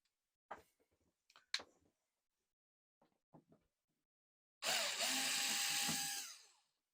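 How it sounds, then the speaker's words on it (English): A loud, steady power drill whirs continuously for about two seconds near the end, drilling into a wall behind drywall for a central vacuum install, after a few scattered knocks and clunks. "we're gonna take this drywall down and then drill a hole"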